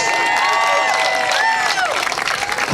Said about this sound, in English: All round of applause!